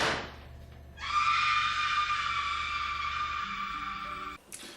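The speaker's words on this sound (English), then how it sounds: "she just yells this scream out" A woman lets out a long, sustained scream in a scene from the 1999 film Blast from the Past, loud and steady for about three seconds before cutting off, over faint background noise.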